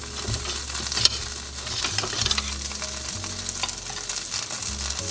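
Italian sausage, ground beef and pepperoni fry in a pan over medium heat, a steady close sizzle with occasional scraping and stirring clinks.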